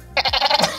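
A person imitates a goat's bleat with the voice, a wavering, pulsing call of about half a second at a game show, close and clear with no other talk.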